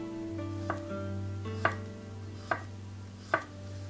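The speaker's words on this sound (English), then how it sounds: "The garlic, thinly sliced," A knife chops thin garlic slices on a cutting board in four distinct, spaced knocks, close and alone with a low steady background hum.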